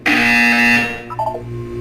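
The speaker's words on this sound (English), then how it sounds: "You will hear a buzzer." A loud, flat electronic buzzer from the Portal 2 video game, sounding once for over a second, alone and close.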